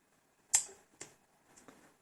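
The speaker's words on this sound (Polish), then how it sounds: "Robimy jedno zdjęcie, jakiekolwiek." A Panasonic Lumix G80 mirrorless camera takes one photo. A sharp, crisp shutter click sounds in a quiet room, followed by a softer second click and then faint mechanical ticks.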